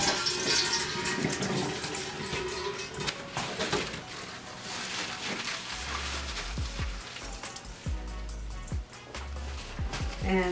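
Lettuce leaves rinsed under a running tap, steady splashing water with irregular drips and handling noises, close and moderately loud, no talking.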